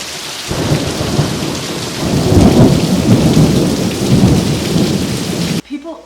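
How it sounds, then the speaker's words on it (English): Heavy monsoon rain pours steadily as thunder rumbles and builds through a loud, dense thunderstorm, then the roar cuts off abruptly near the end. "I love thunderstorms."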